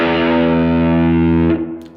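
Electric guitar through an overdrive pedal, a saturated distorted chord sustaining loudly for about a second and a half before being choked off, leaving a short fading tail.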